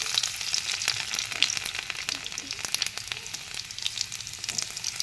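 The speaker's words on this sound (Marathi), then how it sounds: "लसूणला चांगल्या प्रकारे बदामी कलरचं येईपर्यंत फ्राय करून घ्यायचं" Chopped garlic sizzles in hot oil with mustard seeds and cumin, a steady bright frying hiss with scattered crackles and pops running throughout, fairly close and without talk.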